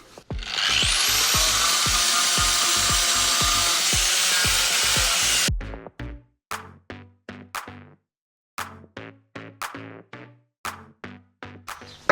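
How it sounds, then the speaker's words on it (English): Flail mower blades are sharpened with a power tool: about five seconds of loud, continuous grinding with a rhythmic pulse, then a series of short, separate grinding bursts with silent gaps between them. "now let's sharpen the blades"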